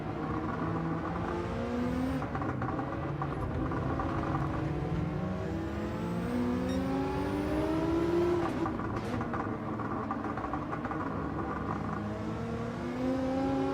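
Audi R8 race car engine in a racing video game, a steady, continuous drone with rising and falling rev sweeps, loud and close throughout, with no talk over it.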